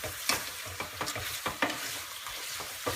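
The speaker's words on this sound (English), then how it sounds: "basically you stir your fish bones" Fish bones and vegetables are stirred in a pan over a gentle sizzle, with a regular series of scraping, clattering strokes.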